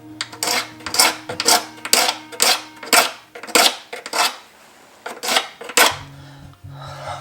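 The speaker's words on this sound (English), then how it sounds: "I'm just going to scrape that out" A hand tool scrapes glue blobs off the side of an Ovation round-backed guitar in a rhythmic series of about a dozen short, sharp, close strokes, with a low hum underneath and a brief pause near the end.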